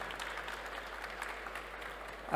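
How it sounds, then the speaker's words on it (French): Audience applause after a panel presentation at a cybersecurity conference, a soft, even patter of clapping from a crowd at some distance, continuing steadily and ending with a brief louder bump. "on peut vous applaudir"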